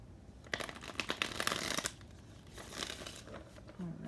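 Tarot cards are shuffled in quick papery riffles and flutters, close and fairly quiet, in two bursts with a short pause between.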